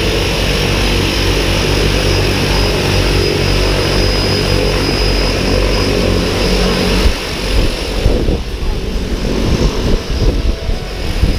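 A skydiving plane's propeller engine roars loud and close in a continuous drone, shifting slightly in tone partway through, with no voices.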